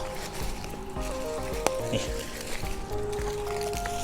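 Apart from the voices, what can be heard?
water from a hose spraying onto solar panels for cleaning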